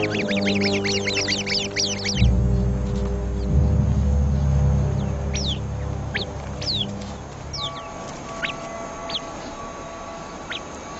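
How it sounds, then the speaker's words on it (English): A flock of birds raises an alarm at a viper: loud rapid harsh chattering calls at first, then a dense burst of clucking, then scattered sharp separate calls that thin out toward the end. "The sentry bird immediately sounds the alarm."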